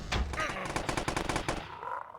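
Rapid automatic gunfire bursts out in the Hindi gameplay of the horror video game See Me during a boss fight, a fast stuttering rattle of shots lasting over a second before fading into quieter game ambience.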